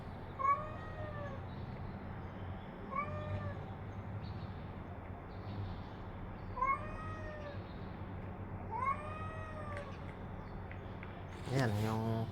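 A hungry adopted cat meows repeatedly for food, four or five distinct rising-falling calls spaced a couple of seconds apart, close by over a low steady background hum, with a short rustle near the end.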